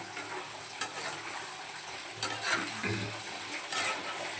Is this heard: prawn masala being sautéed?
yes